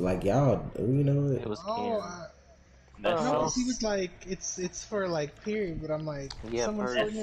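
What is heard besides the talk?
No everyday noise stands out behind the speech.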